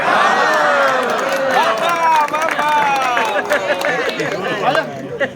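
Lively crowd at a golden jubilee musical evening honouring a singer, cheering and chattering loudly with scattered clapping and whoops throughout, a dense, close hubbub of many voices.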